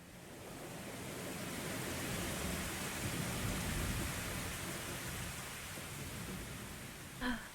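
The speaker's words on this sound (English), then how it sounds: "It's pouring pretty hard outside." Heavy rain pours down in a steady, dense hiss, with a low rumble of thunder swelling in the middle and a brief sharp knock near the end.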